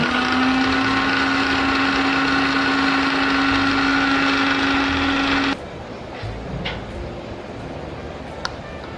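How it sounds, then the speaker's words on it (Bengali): Kitchen mixer grinder whirring as it grinds poppy seeds and mustard seeds dry without water, a loud steady motor hum for about five seconds before it switches off, followed by faint clatter and handling sounds. "প্রথমে এটা জল না দিয়ে একটু আমি গুঁড়িয়ে নিচ্ছি"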